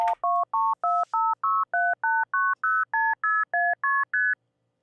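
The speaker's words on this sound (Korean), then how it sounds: "자, MF 톤을 한번 들어볼게요." Early landline MF telephone signaling tones: a rapid series of about fifteen short, evenly spaced two-tone beeps stepping through different pitches, clean and loud, ending in silence.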